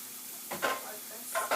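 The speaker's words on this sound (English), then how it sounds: "I'm going to mix in the garlic and ginger paste" Garlic and ginger paste stirred into a frying pan, with a soft background sizzle broken by two pairs of brisk scraping stirs close by.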